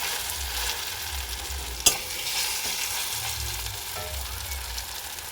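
Chana dal paste fries in a pan with a constant soft hiss, a low rumble underneath, and one sharp utensil clink as it is stirred.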